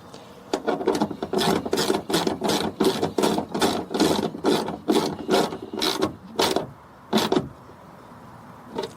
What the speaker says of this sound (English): Once it's hand tightened, let's take our ratchet again.